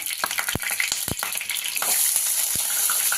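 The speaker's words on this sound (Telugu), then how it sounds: "ఆయిల్ వేసేసి పచ్చిమిర్చి వేసి ఉల్లిగడ్డలు వేసేసుకున్నా" Sliced green chillies and onions sizzle and crackle in hot oil in a pan, a steady close frying hiss with a few sharp pops and stirring clicks, no voices.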